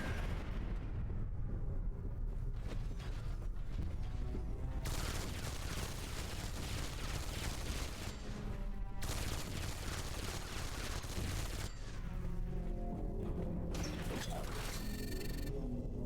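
Grenade explosions and heavy combat from the Space Siege video game pound continuously for the whole stretch: dense, loud booms and crackling blasts with brief shifts in texture and no voices over them.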